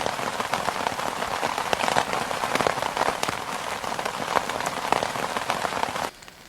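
Heavy rain drums steadily on a Big Agnes Happy Hooligan UL2 tent at night, a dense close patter of drops with sharper individual taps, cutting off abruptly near the end.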